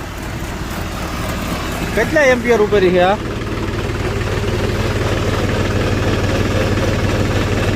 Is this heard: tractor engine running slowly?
yes